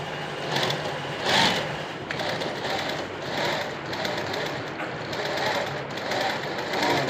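A sewing machine stitching clothes chatters in a rapid, continuous run with small swells in intensity, close by and steady, while someone talks softly.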